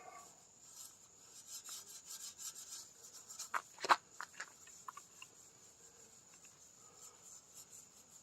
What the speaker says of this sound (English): I'm not rubbing too hard, just hard enough to get through.